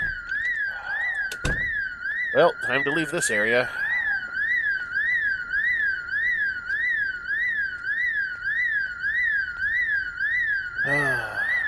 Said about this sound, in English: The always loud, always annoying alarms.